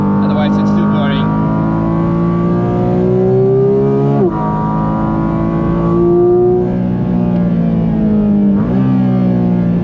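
Porsche GT4 RS engine held at high revs on the Nürburgring, a steady in-car drone with pitch climbing between gear changes and dropping at shifts, running continuously throughout.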